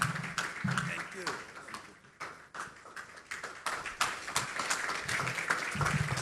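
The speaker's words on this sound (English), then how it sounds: "Please, a round of applause to the governor." Audience applause for the governor at a central banking and digital finance event in Ghana, scattered claps and taps running throughout with a voice speaking over them.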